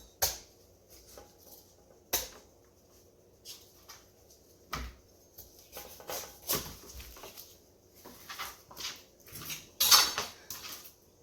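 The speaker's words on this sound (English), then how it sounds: "I'm going to prepare my cauliflower, taking off the ends." A knife cuts the ends off a cauliflower on a kitchen board, giving sharp, separate chopping knocks and scraping clatter at irregular intervals, fairly close and clear against quiet room noise.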